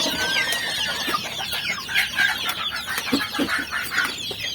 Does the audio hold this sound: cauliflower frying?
no